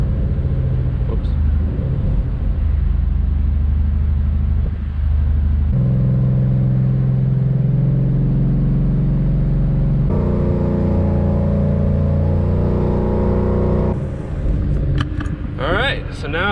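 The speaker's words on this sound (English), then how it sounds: "now we're gonna do 1500 RPM for 10 to 15 seconds, then 2500 RPM, and then 3500 RPM" A 2018 Ford Mustang engine idles loudly and steps up in stages toward 1500, 2500 and 3500 RPM, a dense, close rumble that climbs in pitch at each step, with a few revs at the end.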